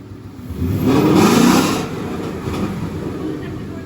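A Gen 2 Coyote Mustang engine revs up sharply above 3,000 rpm, holds a loud roar for about a second, then drops back to a steady idle.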